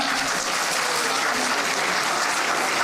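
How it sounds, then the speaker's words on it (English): Audience clapping at the afternoon session of the 4th World Madiga Day gathering, a dense, steady wash of applause from a large crowd filling the whole stretch at even loudness. "everybody give a clap"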